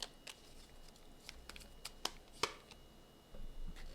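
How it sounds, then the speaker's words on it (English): Tarot cards being shuffled by hand, irregular quiet flicks and snaps with a brief riffling burst near the end, close and soft, no voices. "These cards don't want to shuffle."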